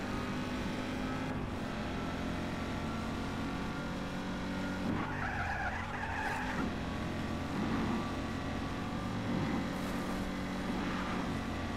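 A car in the video game Just Cause 3 races along with a constant engine roar, and tires squeal in a few skidding bursts partway through.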